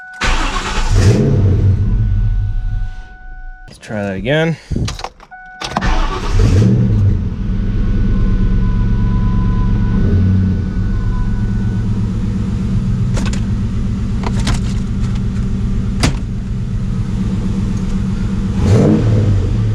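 1999–2004 car engine cranking and then starting after a motor mount replacement, followed by a steady close idle with occasional light revs. A short spoken remark comes between the attempts.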